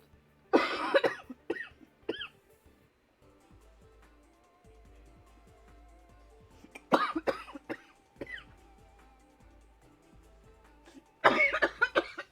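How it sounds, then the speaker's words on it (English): A man coughs hard in a quiet indoor room, giving three clusters of harsh, close coughs separated by quieter stretches with faint background tones, the fits coming at the start, the middle and the end. "I've coughed more in the past few minutes than I coughed when I was sick."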